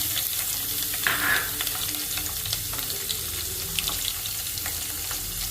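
Cumin, mustard seeds, coriander seeds and crushed garlic fry in hot oil with a soft, steady crackle and a few sharper spits and pops, close by.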